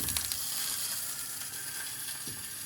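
Scallops pan-frying in their shells give off a constant, close sizzle and crackle, bright and hissing without pause, with no voices over it.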